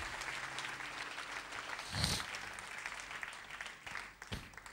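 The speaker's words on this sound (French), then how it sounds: "Applaudissez un peu Jéhovah." A church congregation applauds during a sermon; continuous, moderately faint clapping from many hands runs throughout, with a brief louder burst midway.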